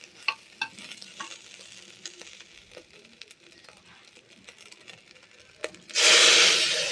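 Hot water poured into a pan of spiced rice and lentils fried for khichdi, bursting into a loud, sustained hiss and sizzle after a stretch of quieter stirring and scraping.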